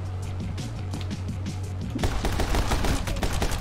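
Rapid gunfire from the action video game My Friend Pedro, dense bursts of shots over a steady game soundtrack hum that grow louder and busier in the second half.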